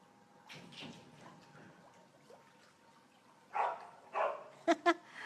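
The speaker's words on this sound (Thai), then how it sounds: "มีหมาสองตัวพยายามที่จะออกมาดู" Two dogs bark near a swimming pool: a few sharp, fairly close barks in quick succession toward the end, following a quieter stretch of faint background noise and voices.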